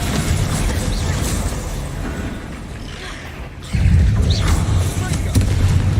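A Confringo blasting spell explodes in Hogwarts Legacy with a loud boom that swells sharply near the middle, over a steady rumbling game soundscape, with a voice speaking beneath.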